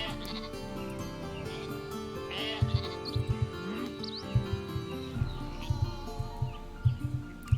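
Sheep bleating in the strategy video game Northgard, several repeated bleats over game music with soft clip-clop steps and other farm-animal calls, moderately loud.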